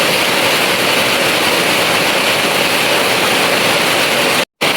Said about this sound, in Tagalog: napuno na po sa sobrang lakas po ng ulan